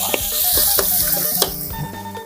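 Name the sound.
garlic sizzling in hot oil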